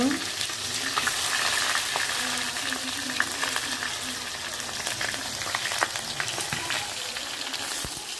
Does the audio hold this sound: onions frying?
yes